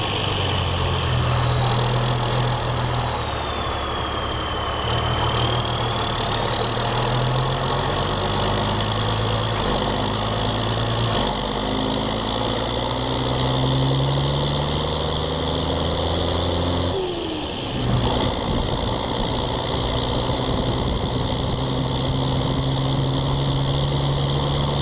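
A steady, rumbling small-displacement six-cylinder John Deere tractor diesel engine idles nearby with a constant low throb and mechanical hum, briefly dipping before settling back to the same even tone.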